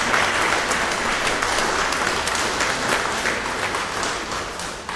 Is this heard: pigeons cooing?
no